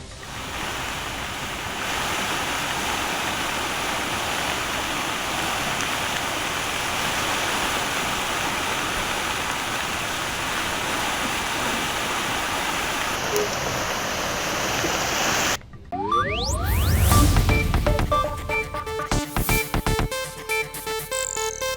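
Floodwater after heavy rain surrounds a house in Edapadavu, Mangaluru, rushing in a loud, steady, broadband roar for about fifteen seconds before giving way to a burst of music.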